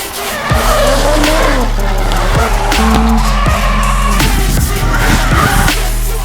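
Drift cars at a Silent Drift Battle Philippines D1 Grand Prix shakedown skid with loud, continuous engine roar and squealing tires, sustained high-pitched screech over the full stretch, close and intense.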